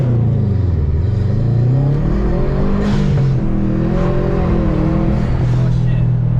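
A 2014 Subaru WRX fitted with an SF intake pulls hard under acceleration, its engine note rising loudly and steadily along with turbo whine throughout.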